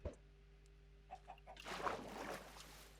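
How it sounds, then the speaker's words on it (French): A Minecraft chicken clucks in a few soft, short bursts, followed by a denser rustling wash of game sound, all quiet and close. "Oui, il y a encore une poule."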